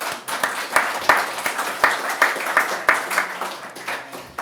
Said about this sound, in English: I'll take that as a clap for me about to speak.